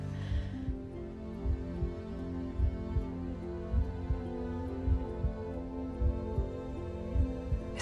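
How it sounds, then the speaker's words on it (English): A steady heartbeat throbs in slow, regular double-thumps, low and muffled, repeating about every half second under a soft sustained hum. "Is that a heartbeat?"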